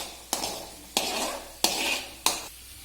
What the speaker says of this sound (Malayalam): അപ്പോൾ നമുക്കൊന്ന് ഇളക്കാം.